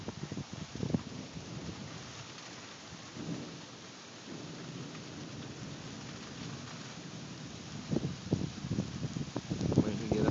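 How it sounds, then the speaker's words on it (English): Wind picks up and rain begins to fall as an afternoon thunderstorm approaches, a steady rushing wash with low rumbles and gusts building toward the end. "Starting to get windy, starting to get some rain."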